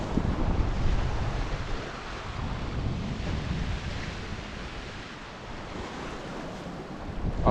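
Waves at the beach at Cala Vicente on Ibiza: continuous broadband surf wash with rolling swells, close and fairly loud, with gusty wind rumble buffeting the microphone and no voices.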